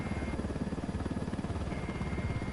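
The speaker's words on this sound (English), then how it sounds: "Deploying the drone." Video game drone whirring aloft in a shooter, a steady buzzing rotor hum with a rapid pulsing flutter, moderately quiet and continuous, with no talk over it.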